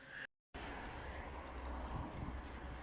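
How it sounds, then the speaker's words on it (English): Wind buffeting a microphone during a road bike ride, a steady broadband roar after a brief dropout at the start, continuous and fairly loud with no talk. "Just 2 hours getting battered by the wind."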